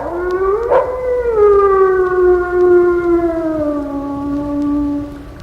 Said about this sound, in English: That eerie wail that is by far the most significant call of all animals. The howl.